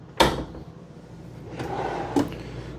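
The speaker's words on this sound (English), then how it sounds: "Full extending ball bearing drawer" A full-extension ball-bearing drawer in a 2024 Dutchmen Voltage 4225 toy hauler fifth wheel rolls on its runners with a sharp knock at the start, a smooth sliding rumble, then a firm thud as it shuts.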